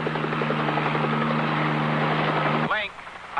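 A helicopter's rotor thumps steadily in a close, loud drone with a voice speaking over it, then the engine noise cuts away abruptly near the end.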